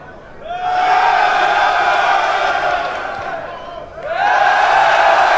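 A live rap battle audience roars for their chosen MC in two long, loud swells of massed shouting and cheering, the first fading slightly before the second surges in.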